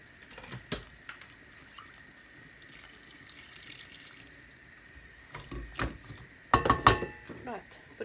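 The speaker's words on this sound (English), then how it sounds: "I'm going to add another bit of water and let that cook for 10 minutes" Water runs from a tap and splashes into a pot for a cauliflower stew, with faint kitchen clatter and a louder burst of pouring near the end.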